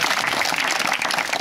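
A church congregation in Nepal claps together in a dense, steady burst of applause that fills the space, close and loud for the whole stretch, with no voices rising above it.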